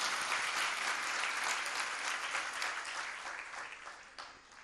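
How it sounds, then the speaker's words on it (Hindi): A crowd gathered for a Jain religious discourse claps together in a sustained, broad applause that starts full and slowly thins and fades toward the end. "तो एक बार उनके लिए तो तालियां बजा दो"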